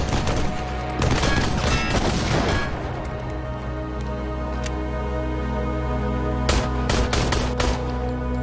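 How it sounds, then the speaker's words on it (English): Rapid, loud bursts of enemy machine gun fire in a video game trailer, with sustained rattling volleys and sharp individual shots over a low droning score. "The optic is a long-range enemy that pins down the player with a machine gun."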